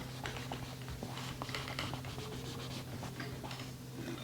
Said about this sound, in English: I'm going to take a pizza wheel and I'm going to cut right across, right down the middle